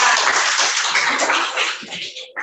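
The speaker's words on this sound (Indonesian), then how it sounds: "Tepuk tangan untuk kelompok 4." A classroom group applauds another student group, a dense wash of many hands clapping together close by, steady and bright before tapering off abruptly near the end.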